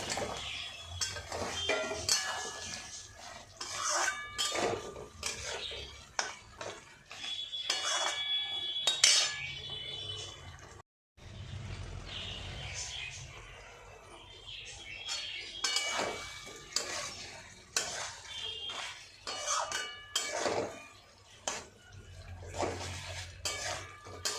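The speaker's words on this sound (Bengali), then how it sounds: "এবার আমি এই যে ভাজা আলু আর গাজরটা এটা দিয়ে কষে নেব" Fried potatoes and carrots are stirred into a cooking spice paste in a pan for a paneer curry, with repeated metal spatula scrapes and clanks against the pan, broken by one short pause.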